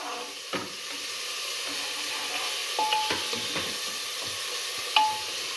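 Green beef curry being stirred in a pan, a steady sizzling fry with a few soft utensil scrapes and clinks against the pan, close and moderately loud.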